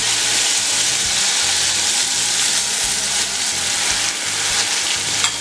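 Ground spice pastes of cumin and coriander frying in a pan, a loud, dense, continuous sizzling hiss close by with no talking.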